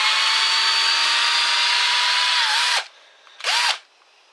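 A Ridgid R82007 12-volt cordless drill whirs steadily at high speed driving screws into wood, stops, then gives one short burst; the motor pitch dips as each run ends.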